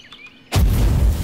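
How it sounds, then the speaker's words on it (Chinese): A radial force spell detonates in an Unreal Engine game, a sudden loud booming explosion after a brief quiet lead-in, its heavy low rumble sustained to the end. "这个爆炸的这个感觉"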